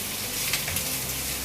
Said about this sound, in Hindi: सारी सब्जियों को एक साथ ऐड कर देंगे और उसको तेज फ्लेम पर ही, हाई फ्लेम पर ही अच्छे से 2 से 3 मिनट तक भूनेंगे